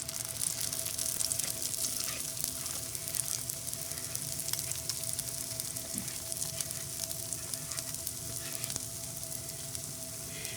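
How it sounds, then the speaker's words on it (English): Cornmeal batter fries in Crisco in a cast iron skillet, giving a close, steady sizzle and crackle that continues throughout with no talking. "It's frying in this pan, and that's going to make the crispy crust that you want in there"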